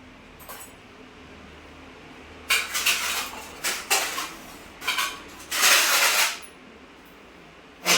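Food is served onto plates with a run of bright clinks and scrapes of dishes and cutlery, several bursts over a quiet room, close and fairly loud.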